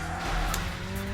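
Car tires squeal in a drift in the racing game Burnout, over a steady, loud engine roar, the skid running continuously for about a second.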